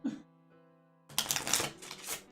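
A brief tone and a short voiced sound, then a quick riffle of cards being shuffled during a Shadows of Kilforth tabletop game, close and crisp.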